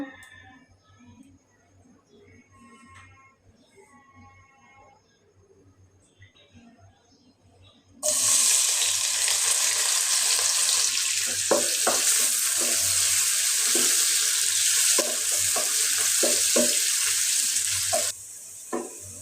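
Onions frying in a pan, a loud continuous sizzle that starts suddenly after a quieter opening, with faint clinks of stirring inside the hiss until it drops near the end.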